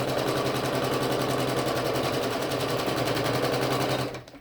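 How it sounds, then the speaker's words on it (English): A sewing machine runs a quarter-inch seam across a quilt block with a continuous, even, close whir for about four seconds, then stops abruptly. "I'm ready to start stitching. And I'm going to do my 1/4 inch."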